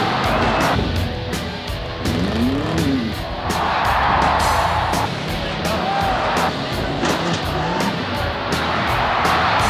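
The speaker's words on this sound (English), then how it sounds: "the hometown heroes and their daily drivers, those magnificent rough and tumble" Tough trucks, including a short-wheelbase International Scout, race at a mud and monster truck event, with loud continuous engine roar, revving and surges, rhythmic thumping and crowd noise throughout.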